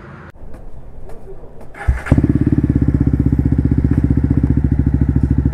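A motorcycle engine starts with a sharp catch, then settles into a loud, close, rapidly pulsing idle that runs steadily to the end.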